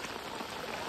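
Light rain falling outdoors near a fishing net, a brief, even patter of drops, soft and steady with no voices.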